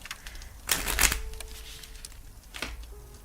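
A quick riffle shuffle of playing cards, a dense fluttering burst up close followed by a shorter, softer riffle, in a quiet room.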